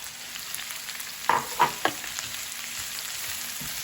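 Onion and mushrooms frying in a pan for a cabbage stir fry, a soft, steady sizzle with a few brief scraping stirs, quiet and close with no talking.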